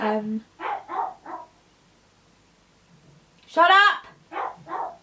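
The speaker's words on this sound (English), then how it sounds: "he's losing his bark because he barks so much" A small dog barks sharply several times up close, in short clustered bursts, with a person talking over the barking.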